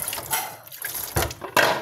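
Water pours from a gallon container in short, splashy gushes, close and moderately loud, with a stronger slosh at the end.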